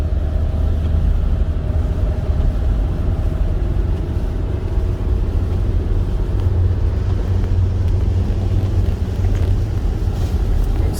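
A 2021 Volkswagen Caddy with a six-speed gearbox accelerating on the road, heard from inside as a steady, loud low engine and road rumble mixed with constant wind noise throughout.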